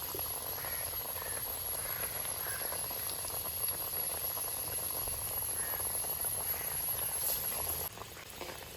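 Drumstick-leaf parippu vada deep-frying in oil gives a dense, steady bubbling sizzle that stays even and fairly close for the whole stretch, with no voices.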